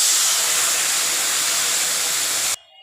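Loud, steady sizzling hiss as water is poured into a pan of hot oil with potatoes for an aloo curry, holding constant for over two seconds, then cutting off abruptly.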